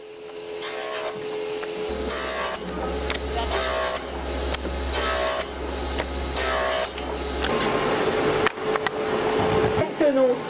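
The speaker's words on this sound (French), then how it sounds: "Ici, la matière est rabotée pour la calibrer en épaisseur." A machine planes eyeglass frame material to calibrate its thickness in an Alain Mikli eyewear workshop: repeated bursts of harsh cutting noise over a steady low motor hum, with a narrator speaking throughout.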